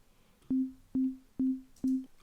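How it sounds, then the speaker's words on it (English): A deep kick drum synthesized in Ableton's Operator thumps four times in a steady four-on-the-floor pattern, each hit a short punchy attack with a booming low tail. "So the first sound I'm going to make is a kick drum."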